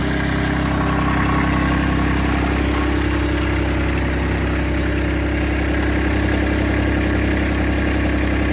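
A Kubota tractor's engine idles and labors steadily at close range while it winches a stubborn stump on a 9000 lb winch. The drone is loud, low and continuous, with a slight rise and fall in revs.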